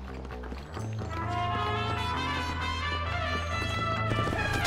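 Horses galloping in the Red Dead Redemption video game, rapid rhythmic hoofbeats under a loud, dense music score.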